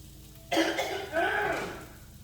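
A single harsh cough bursts out from hot pepper fumes while cooking, followed by a rougher, drawn-out second cough trailing off, close and fairly loud.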